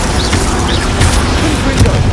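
Fire-spell explosions and blasts in the Hogwarts Legacy video game, with booming hits over dense continuous battle noise and background music throughout.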